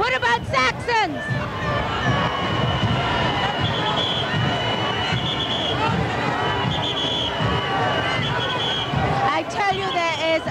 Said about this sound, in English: there is an uproar of crowds as Barabbas and the tribe make their second lap